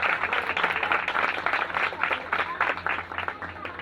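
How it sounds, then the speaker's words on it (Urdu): Loud applause fills a church during a Sunday sermon, a dense sustained clatter of many hands clapping together, steady and close throughout. "زوردار تالیاں خداوند کے جلال کے لیے"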